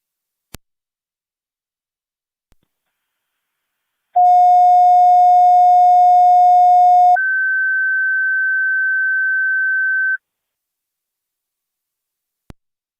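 Fire dispatch paging tones come over a county police and fire scanner: a long steady lower tone, then a higher one. A few faint clicks sound before and after.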